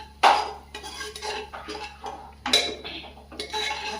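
Onion browning in a pan is stirred with a metal utensil, producing several distinct clanks and scrapes against the pan with quieter stirring between them.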